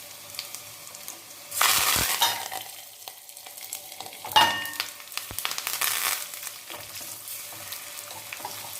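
Onions and curry leaves hit hot oil in a pan with a bright, loud sizzle, then keep frying steadily while a spoon stirs and scrapes the pan now and then.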